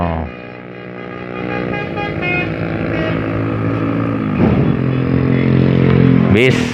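Motorcycles in illegal street racing on a toll road, their engines droning loud and steady throughout, with a brief horn-like burst near the end.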